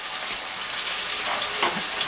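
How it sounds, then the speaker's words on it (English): Steak searing in a hot pan with a loud, continuous close sizzle and hiss of fat spitting throughout. "We're really working on the sear rather than cooking the steak internally"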